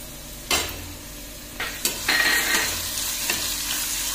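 Crushed garlic and cumin paste sizzles in a hot pan while being stirred for ambadi bhaji, with a few sharp clatters of a spoon against the pan over a steady frying hiss.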